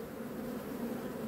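Honey bees in an opened hive give a dense, low, continuous buzz, a close and steady swarm drone without pause over a brief moment.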